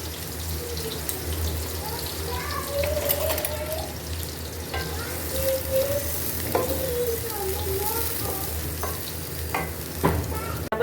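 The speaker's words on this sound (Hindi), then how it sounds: "प्याज को हमने फ्राई कर लेना है" Steady sizzling of onions frying in hot oil, with occasional stirring scrapes and clinks over a constant crackling hiss.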